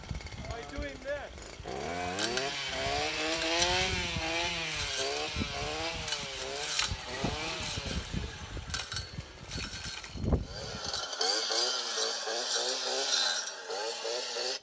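A Stihl brush cutter's engine runs hard, its pitch rising and falling in repeated surges as it swings through brush, loud and close, then drops out near the end, leaving a faint high hiss.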